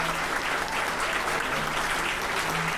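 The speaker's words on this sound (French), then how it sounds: "une belle main d'applaudissements pour Marc Sacref" Steady, dense audience applause at a civic gathering welcoming a new mayor, Marc Sacref, continuous and even throughout without pause.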